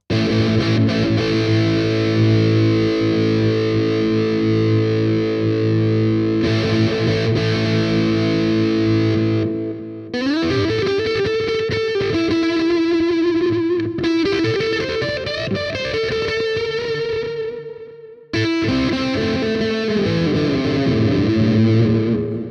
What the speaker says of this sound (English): Horrible guitar sound.